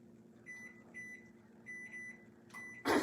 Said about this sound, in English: I'm going to throw it in the microwave behind me.